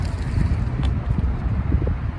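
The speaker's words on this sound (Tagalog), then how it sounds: "sobra po kasing lakas ng hangin." Loud, blustery wind roars across the microphone in constant low rumbling gusts, with no voices heard.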